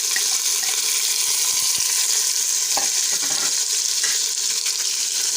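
Ginger, garlic, green chilies and sliced tomato fry in a pan for a Hyderabadi-style degi chana pulao, giving a steady loud sizzle with occasional scraping stirs and light clinks throughout, no talking.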